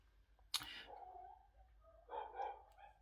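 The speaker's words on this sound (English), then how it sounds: "if you can hear that barking." A dog barks once, sharp and fairly close, followed by softer whining yelps in an otherwise quiet room.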